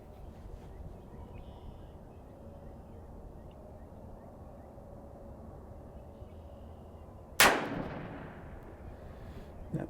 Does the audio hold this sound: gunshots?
yes